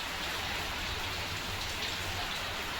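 Continuous rain falling in a dense, even hiss of drops on surfaces, steady and close with no voices.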